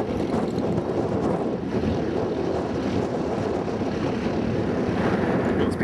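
A light aircraft at Tokoroa Airfield comes in to land in a strong, bitterly cold crosswind, its engine drone buried in heavy, constant wind roar buffeting the microphone.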